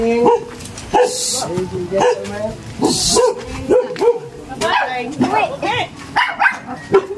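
Dogs barking, yipping and snarling in a scuffle, close and loud, with short bursts of hissing noise and people talking over the commotion.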